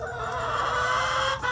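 Chickens in a school barn cluck steadily at close range, a dense layered chorus of fowl calls with no talking over it.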